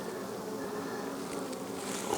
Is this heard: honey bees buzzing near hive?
yes